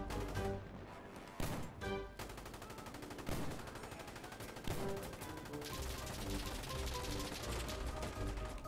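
Gunfire from Insurgency Sandstorm rattles in loud, dense bursts, with rapid automatic fire and heavy single reports packed together and continuing steadily throughout.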